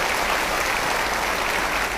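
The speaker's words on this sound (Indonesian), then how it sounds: "Boleh tepuk tangan untuk periode kedua." A studio audience on an Indonesian talk show breaks into dense, continuous applause, loud and unbroken for the full two seconds without any talking.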